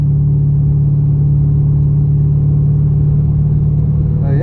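Holden VX Commodore with a stock LS1 V8 at a roll racing event, a steady loud low engine drone holding constant throughout, close by, with no voices.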